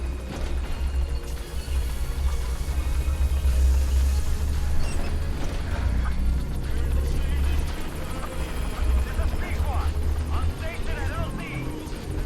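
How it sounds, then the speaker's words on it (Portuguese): Helicopter in the video game Metal Gear Solid V: The Phantom Pain, a steady loud rotor thump and engine rumble running continuously throughout, with scattered game sounds over it. "Chama o helicóptero."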